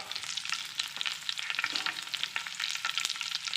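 Fish sizzling in a pan laid over a bed of curry leaves, a steady close crackle and hiss of hot oil with sharp spitting pops throughout.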